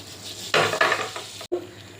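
Cloves, cardamom and cinnamon hit hot oil with a close burst of crackling sizzle that swells and fades over about a second, then cuts off briefly before a quieter hiss returns.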